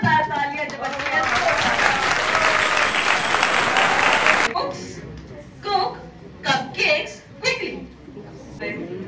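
Loud applause from an audience fills a college seminar hall at a DAV College event in Jalandhar, a dense sustained clapping for about four seconds that stops abruptly, followed by scattered voices and brief sounds.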